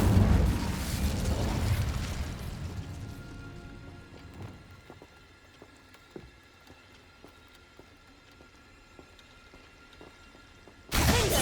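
A fiery Incendio spell blast in Hogwarts Legacy, a loud broadband burst of roaring flame at the start that fades over several seconds into a quiet rumbling tail with faint crackles, then a second sudden loud burst right at the end.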